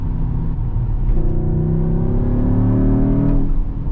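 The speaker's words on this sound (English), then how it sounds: "Do you also hear the turbo noises? As soon as you just push it and then lift off from the gas." Mercedes-AMG GT63 hybrid with a turbocharged V8 under load, engine drone rising and then falling as the throttle is lifted, steady and close from inside the cabin.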